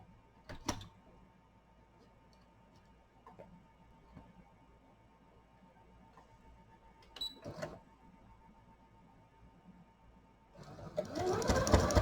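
Home sewing machine stitches a quarter-inch seam on a see-through project pouch, starting with faint taps and clicks in a quiet room and ending in a louder, steady whirring run.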